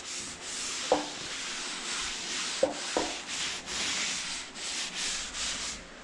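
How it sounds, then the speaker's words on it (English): Steady rhythmic sanding on a 1981 Chevy C10 truck body panel, a dry scraping rasp in repeated strokes, close up, with a few sharp knocks among the passes. "I got some sanding done."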